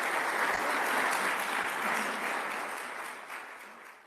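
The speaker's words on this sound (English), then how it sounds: "warm round of applause?" Warm audience applause for the panelists at an evening panel event on a marriage court case, a dense, even wash of clapping that gradually fades over a few seconds.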